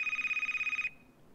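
A phone rings in the video game Last Stop, a steady rapid electronic trill with a bright tone that repeats evenly for almost a second, then cuts off abruptly, leaving quiet background.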